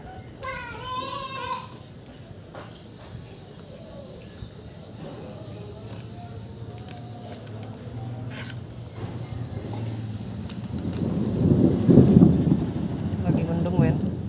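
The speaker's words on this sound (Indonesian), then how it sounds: "Gerimis. Persiapan hujan." Light drizzle turning to rain patters steadily outdoors during a motorcycle repair, with a low thunder rumble swelling near the end and faint voices in the background.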